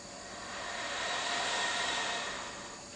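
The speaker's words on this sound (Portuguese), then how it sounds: "Primeiro nós vamos fazer um exercício que é escutar só a correnteza do ar" Steady breathy rush of air blown through a saxophone mouthpiece and reed without sounding a note, a soft continuous hiss that swells and fades over about three seconds, alone.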